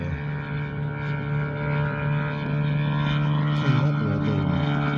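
A giant scale R/C F8F Bearcat model airplane drones steadily overhead, its engine and propeller giving a loud, continuous buzzing hum that wavers slightly in pitch as it flies, with no voices.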